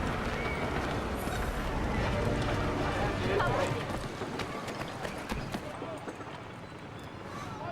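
Horse hooves clip-clop at a steady run in Assassin's Creed 3, a mid-distance rhythmic clatter of footfalls mixed with ambient game noise and talking voices, fading slightly toward the end.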